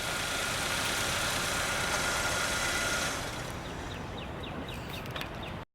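A 2012 Buick Verano idling just after start-up, a steady engine hum and exhaust drone that drops slightly in level partway through, with faint bird chirps at the end.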